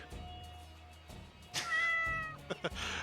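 A cat meow sound effect plays as a livestream alert, a clear, close, drawn-out meow with tonal harmonics, heard alone without speech.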